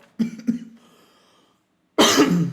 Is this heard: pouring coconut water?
no